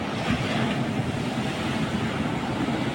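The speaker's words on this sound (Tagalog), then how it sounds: "Lakas ng alon." Strong sea waves at Claveria, Cagayan, a dense continuous roar of surf mixed with heavy wind buffeting the microphone, with no talking.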